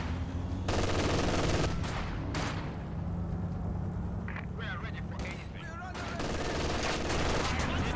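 Machine gun bursts from an MG covering the centre in the Company of Heroes 2 battle game, repeated rattling fire among explosions and battle noise, under continuous talk.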